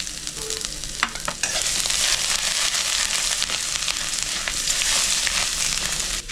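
Grated ginger sizzles and fries in hot oil with a spice tempering for moong dal, a steady loud hiss broken by a few stirring scrapes, with no talk.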